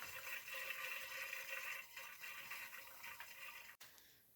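Engine oil draining from a Husqvarna MZ 61 zero-turn mower, a faint, steady trickling pour that runs continuously for several seconds before cutting off near the end.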